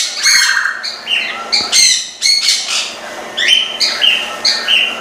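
A breeding pair of African grey parrots gives loud, harsh squawks and shrill whistled calls in repeated bursts through the whole stretch, close by, with no talking.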